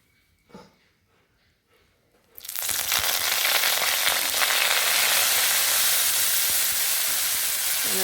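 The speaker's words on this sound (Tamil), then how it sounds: "இதை வதக்கிடுவோம்." Washed coriander leaves hit hot oil in a pan for chutney, bursting into a loud, steady sizzle after a couple of seconds of near quiet with a small clink, and hissing on evenly to the end.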